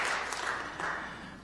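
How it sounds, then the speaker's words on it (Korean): A church congregation at a Sunday service claps in welcome for guests, a brief, fairly soft and steady patter of applause that fades slightly toward the end. "여러분들 환영의 박수 부탁드리겠습니다"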